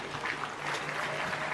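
An audience at a national awareness day ceremony gives a brief, fairly faint round of applause, a soft continuous patter of clapping.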